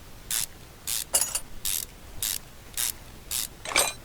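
Ratchet cranking engine bolts loose in the Car Mechanic Simulator video game: eight short, bright ratcheting bursts repeat at a steady rhythm, crisp and close, with no talking.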